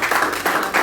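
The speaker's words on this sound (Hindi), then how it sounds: "एक ताली इनके लिए भी।" Students in a school classroom clap for a classmate, producing a brief, dense burst of hand claps, fairly close and loud, with no talking over it.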